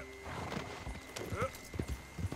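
A horse in the Red Dead Redemption 2 video game gallops with rapid clip-clop hoofbeats and lets out a neigh partway through, close and clear, with a voice talking faintly underneath.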